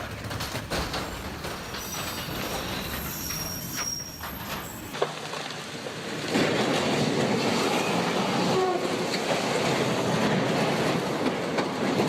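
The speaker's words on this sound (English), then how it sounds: "A speeding train shears off the passenger door and crushes the side like paper." A speeding train races past in Hanoi and strikes a parked truck, with loud rumbling wheel noise and clattering rail sounds, a sharp impact thud, and then a heavier, louder roar as the train keeps moving.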